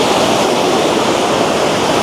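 Steady broadband roar of ocean surf and wind on a beach in the early morning, continuous and fairly loud with no distinct breaks between waves.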